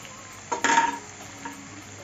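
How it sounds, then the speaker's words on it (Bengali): Poppy seed and peanut paste stirred into a rui fish curry in a pan, one brief loud scrape of the spoon with a faint second stroke over a quiet simmer. "ভালো করে নাড়িয়ে নিচ্ছি।"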